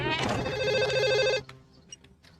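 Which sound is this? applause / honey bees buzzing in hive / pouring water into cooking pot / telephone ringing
telephone ringing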